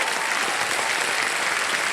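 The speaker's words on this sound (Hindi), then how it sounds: "तालियां बज जाए इनके लिए" A studio audience on the KBC quiz show bursts into steady, even applause, a dense wash of clapping heard alone throughout.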